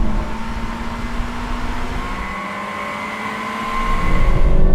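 A sports car engine, in a Japanese drag race between a Toyota 86, Mazda NC Roadster and Honda S2000, revs high and steady with a rising whine in second gear, then the roar swells louder as it pulls away hard.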